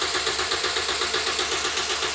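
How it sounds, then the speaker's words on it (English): A Toyota Yaris-keyed car, part of a cheap project car build, cranks with a rapid rhythmic chugging from the starter, a steady pulsing churn that never quite catches, loud and close. "the car should be hopefully suitably tricked into starting."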